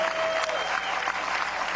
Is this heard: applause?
yes